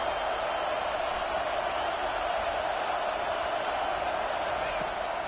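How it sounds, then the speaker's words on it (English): A stadium crowd at a football game roars loudly and continuously, a dense wall of cheering and noise on first and goal. "This offense trying to quieten the crowd on 1st and goal, and they are not cooperating."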